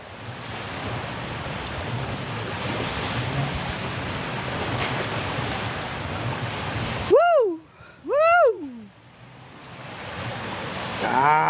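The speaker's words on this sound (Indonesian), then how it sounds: "Kita duduk di tepi pantai ya. Duduknya di tepi pantai saudaraku, luar biasa pantainya ya." Ocean surf washes steadily onto a beach shore as a broad, even hiss for several seconds, then drops away to quiet broken by two loud, sweeping whistled calls.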